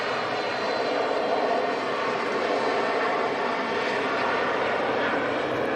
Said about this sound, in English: Ryanair sneaking out to Dublin